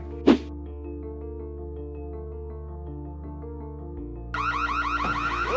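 An All-In Sensor multi-sensor alarm device opens with a single thud over a steady humming tone, then breaks into a loud, rapidly warbling siren for the last second or so.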